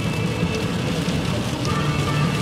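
Steady rain patters continuously on a surface during a drive in Pennsylvania, a dense even hiss with no pauses or voices.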